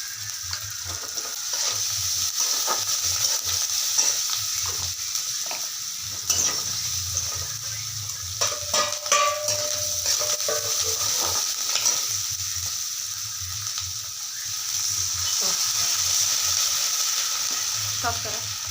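Maggi noodles are stirred and cooked in a pan, giving a continuous sizzle and frying hiss throughout, with intermittent scraping and clinking of the stirring utensil at close range.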